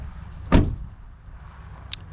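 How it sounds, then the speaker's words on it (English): Driver door of a RAM 2500 diesel truck swinging shut with one solid, close thud, followed by a quieter short click a moment later. "All right, we're going to close the driver door"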